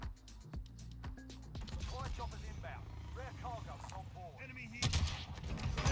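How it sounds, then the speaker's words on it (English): Gunfire in the video game Warzone with a Fennec loadout: a rapid burst of sharp shots at the start, then sparse single cracks and a heavier blast near the end, under a voice talking. "Oh, what a shot that was."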